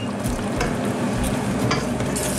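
A spoon stirs thick boiling groundnut soup in a pot, with steady scraping and gentle bubbling at close range and no voices.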